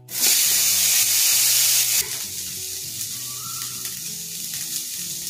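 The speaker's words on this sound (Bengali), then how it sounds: "এই পটেটোটা ছেড়ে দিলাম কড়াই।" Potatoes drop into hot oil in a wok and burst into a loud, bright sizzle for about two seconds, then settle into a steadier, softer frying hiss with light stirring clinks.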